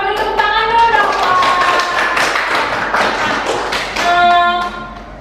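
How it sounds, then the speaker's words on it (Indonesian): Students in a classroom clap their hands together, a dense burst of applause lasting several seconds, with some voices and tones mixed in before it tapers off. "Kita beri tepuk tangan dulu dong."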